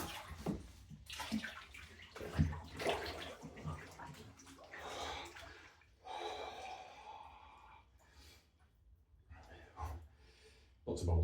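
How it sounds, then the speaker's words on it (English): Water bubbling and churning in a NuRecover ice bath, with splashing, snorting and breathy gasps from someone sitting in the cold water, close and irregular. "Lots of bubbles."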